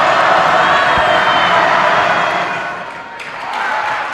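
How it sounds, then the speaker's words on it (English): Crowd at a college basketball game between Wheaton and Carroll University cheering loudly and continuously in a gym, a dense roar that dips briefly then swells again. "I must admit the crowd was quite hectic on that last play."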